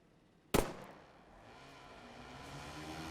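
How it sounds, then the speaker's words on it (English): A single sharp starting gunshot cracks once to signal the start of a motocross race, loud and abrupt, followed by a low steady background rumble with no talking. "Wait for the gunshot and we'll go green."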